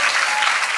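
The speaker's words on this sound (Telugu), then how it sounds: "ఒకసారి గట్టిగా చప్పట్లు కొట్టండి" A congregation at a Christian worship sermon claps loudly and densely, a steady unbroken wash of many hands close by for under a second.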